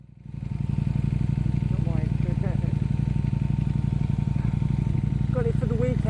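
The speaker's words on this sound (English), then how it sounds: "riding through London on a V4S to be a particularly pleasurable experience" A Ducati Panigale V4S rides slowly through London streets at around 20 mph, its engine a loud, steady, close-up drone with a pulsing low rumble that holds without a break from start to finish.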